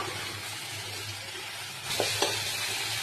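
Tomato and onion paste sizzles in hot oil in a frying pan, a steady close crackling hiss with a couple of brief stirring scrapes near the end.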